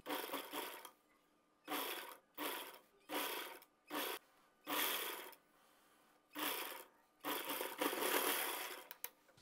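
A sewing machine stitches the waistband of an organza lehenga in about eight distinct close bursts of rapid mechanical whirring, separated by short quiet pauses, with no talking.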